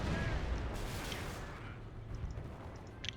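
Sector artillery shells from Company of Heroes pound a battlefield in a dense, continuous barrage of rumbling blasts, with a few sharper cracks near the end, loud and close.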